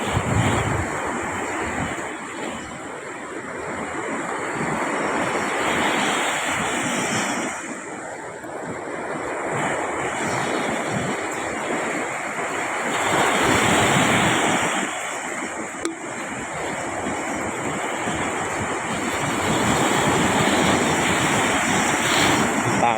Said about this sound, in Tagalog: Sa ilog merong alon.